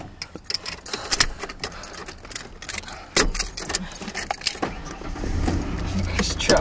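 Keys jangle repeatedly near at hand while a truck's engine tries and fails to catch, the motor churning and sputtering toward the end, with loud clattering bursts throughout.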